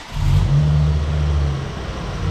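A car engine revs hard with a rough, uneven misfire, likely from bad fuel in the injector rail, loud and close for a couple of seconds before settling back.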